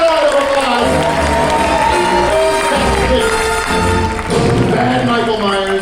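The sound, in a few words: audience applause and cheering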